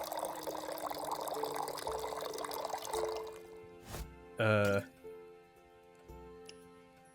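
A drink pours in the bartending video game Another Round Barkeep as a short, rising liquid-fill tone that swells over steady background music, with a quieter splash just before it.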